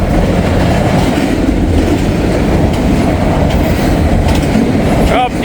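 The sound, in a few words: long freight train with double stacks passing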